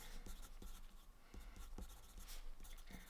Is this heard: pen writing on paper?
yes